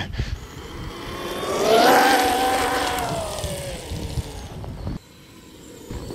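A 4S LiPo RC snowmobile with a 3500kv brushless motor runs at half throttle, a rising and falling electric whine that swells to a peak near two seconds, then fades as the machine moves away, with a quieter tail at the end.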